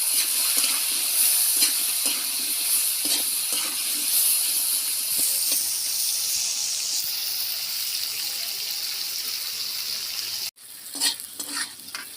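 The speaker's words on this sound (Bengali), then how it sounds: "ভালো করে ভেজে নেব।" Diced potato and ground turmeric fry in oil in a pan, a steady close sizzle with intermittent stirring scrapes, ending in a brief cut and a few utensil knocks.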